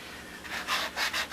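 Sandpaper rubbed over a model Spitfire fuselage, a few short scratchy back-and-forth strokes close by, soft at first, then firmer.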